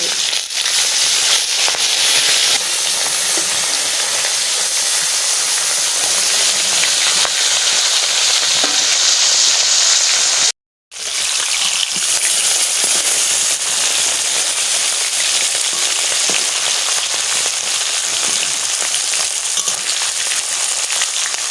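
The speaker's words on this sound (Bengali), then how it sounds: "প্রথমে আমি একটু মাছটা একটু ভাজা নিই তেল দেখো কীরকম গরম হয়ে গেছে" Fish sizzles and spits steadily in hot oil in a home kitchen, a dense, continuous crackling fry that runs loud and unbroken for the whole stretch, cut by one very brief gap near the middle.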